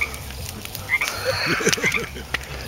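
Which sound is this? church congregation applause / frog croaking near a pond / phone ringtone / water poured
frog croaking near a pond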